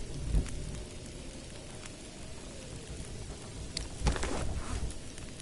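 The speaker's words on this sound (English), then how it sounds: "I'm hoping that was thunder and not something just blowing the hell up" Thunder during a rainstorm in The Long Dark video game: steady hissing rain with two deep, rumbling thunder thuds, one early and a heavier one later, and no talk.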